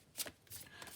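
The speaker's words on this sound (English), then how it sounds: "So I'm just going to have a shuffle." Shaman's Dream oracle cards are shuffled by hand in two quick bursts of riffling and sliding, soft and close, with a short pause between.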